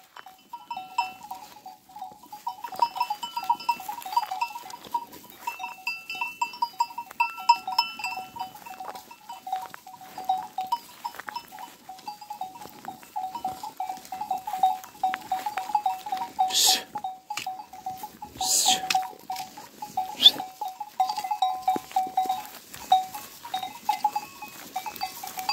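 A flock of sheep at pasture, with scattered bleats and a steady rattle of bells carried across the field, moderately distant and without voices.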